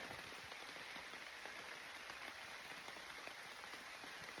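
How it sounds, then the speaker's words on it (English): Heavy rain pours down steadily on a Colorado hillside, a dense hiss with scattered drops pattering on nearby surfaces, continuous and fairly loud with no voices. "Stand here taking a break from the heavy rain."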